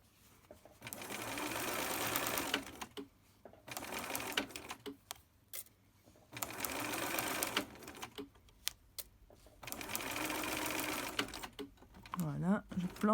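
A domestic sewing machine stitches a fabric face mask with elastic ear loops in three steady bursts of fast, even needle clatter separated by pauses, with a voice speaking quietly during the gaps.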